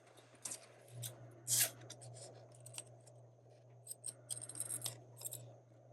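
Fabric scissors snip through a book-page paper corner in several quick, close crisp cuts and rasps, with a low steady hum underneath.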